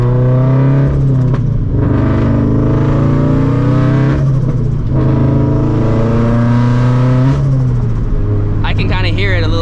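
A 400HP turbocharged FRS with a slight exhaust leak revs hard, a loud, close engine roar rising and falling through repeated pulls with short breaks between gears, while someone talks over it.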